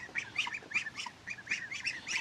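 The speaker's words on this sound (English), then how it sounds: "Them ducks about full grown, ain't they?" Five nearly full-grown ducks, two drakes and three hens, quack in their pen, a rapid, fairly faint series of raspy calls overlapping in short bursts.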